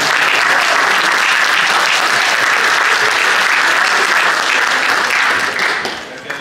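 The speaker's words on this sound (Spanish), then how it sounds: "para quien pido el caluroso aplauso" Warm, loud applause from a seated audience at a local history talk about radio LT13, dense and continuous before tapering off at the end.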